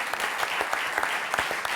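Studio audience applause on a French television talk show, a dense steady patter of many hands clapping at close range, loud and even throughout with no talk over it.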